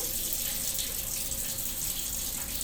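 Hot water runs steadily from a kitchen tap into a sink, a continuous close rushing gush with no voices over it.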